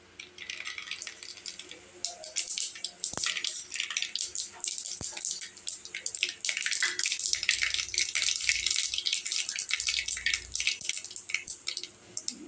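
Mustard seeds crackle and spatter in hot, smoking sesame oil in a pan, a steady run of dense sharp pops and sizzle lasting throughout, close and fairly loud.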